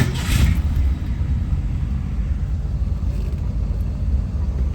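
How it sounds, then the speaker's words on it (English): A 1966 Ford Mustang Convertible engine turns over and settles into a steady, deep idle rumble, loud and close. "I just shut off the engine. Let's turn it right back on."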